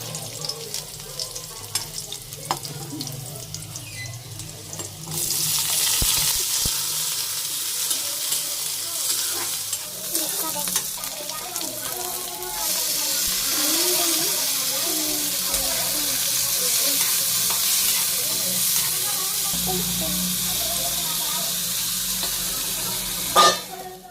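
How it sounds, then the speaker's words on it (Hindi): Ginger and garlic fry in a little oil in a pan, a steady close sizzle and crackle that swells louder partway through, with occasional stirring scrapes and faint background noise. "थोड़ा सा तेल डाला है, इसमें डाला है अदरक और लहसुन"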